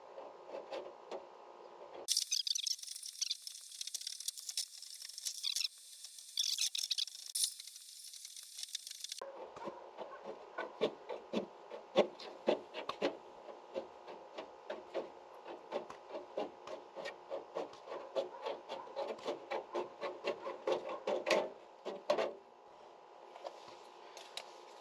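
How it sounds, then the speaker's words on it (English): Hand snips cutting through the sheet metal of a first-generation Cummins truck front door for 6x9 speakers, with close, irregular snapping and crunching bites and scraping over a long stretch, no talk. "We're gonna cut it with these snips."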